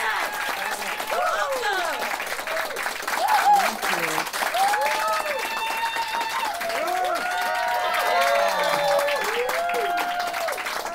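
An audience gives sustained applause in welcome to Jackie Lewis, a Hollywood agent from the Jackie Lewis Agency, with a dense wash of clapping and scattered cheers throughout, while a voice speaks over the crowd.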